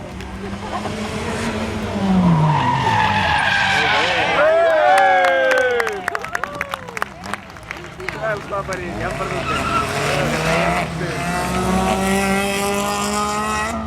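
Rally cars racing past spectators on a stage of the Ral·li Osona, loud engines rising and falling with Doppler sweeps as each car passes close, tyres scrabbling on the road, with a crowd cheering and people talking nearby.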